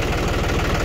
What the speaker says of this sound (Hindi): अब मैं ट्रैक्टर को स्टार्ट कर लेता हूँ एक बार, ये आप देखो ट्रैक्टर मैंने स्टार्ट किया